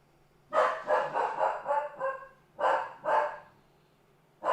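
Close, fairly loud dog barking in a rapid run of about five barks, then a short gap and two more barks, with a low steady hum underneath and no voices.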